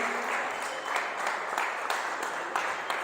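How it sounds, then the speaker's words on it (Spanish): Church congregation applauding, a dense steady clapping at moderate loudness with no voices. "vamos a darle otro aplauso fuerte a Dios, el único que lo merece"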